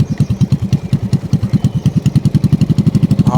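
Motorcycle engine running steadily during a riding lesson, a close, even pulsing throb with regular firing beats throughout, no talk over it.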